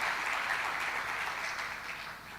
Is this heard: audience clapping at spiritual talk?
yes